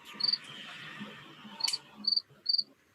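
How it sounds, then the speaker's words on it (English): Crickets chirp in short, evenly spaced high trills, fairly clear against a quiet background with faint low murmurs underneath. "There are literally crickets. Can you hear that?"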